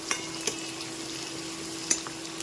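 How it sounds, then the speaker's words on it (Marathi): Onions frying in oil with asafoetida for a Maharashtrian cluster-bean dish give a continuous close sizzle, broken by a few sharp clinks of a spoon stirring the pan; no voice. "फक्त कच्चेपणा कमी होईपर्यंतच आपल्याला कादा तळायचा आहे"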